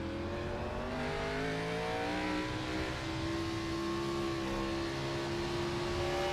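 Race car at Sonoma during a GenX Racing 75 Scrambler Series event revving steadily upward through a gear, a sustained rising engine whine heard from a distance without talk.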